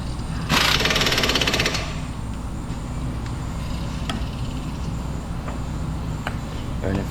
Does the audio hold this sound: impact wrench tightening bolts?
yes